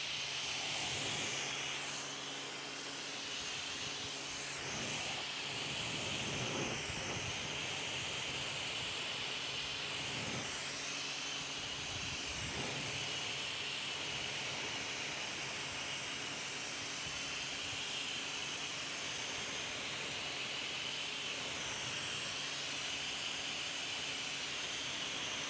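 Spray gun with a version 2 nozzle assembly hissing steadily and continuously at close range, a broad airy rush with slight fluctuations as it sprays a fan pattern onto a wheel.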